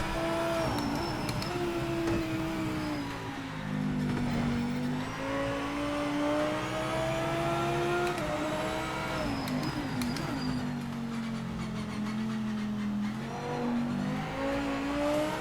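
GT3 race car engine in the Project Motor Racing sim, tested with tyres up to temperature: a loud, steady drone that rises and falls through gear changes and corners, heard alone with no talk.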